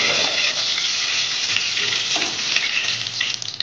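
Curry leaves sizzle and crackle in hot oil in a pan on the stove, a loud, steady frying hiss close up with small pops throughout, no talking.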